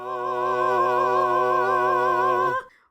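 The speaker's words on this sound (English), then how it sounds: "that is the sound of the chorus for this week's mini segment, which is Hall of Fame" A short sung chorus jingle introduces a Hall of Fame mini segment on a podcast: one sustained, vibrato-laden held note, loud and alone, ending abruptly.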